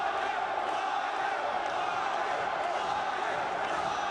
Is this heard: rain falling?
no